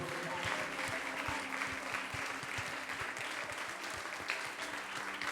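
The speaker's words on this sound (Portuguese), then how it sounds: "Vamos aplaudir Jesus mais uma vez" A church congregation applauding steadily throughout a service, dense continuous clapping at a fairly even level with a few sharper claps standing out.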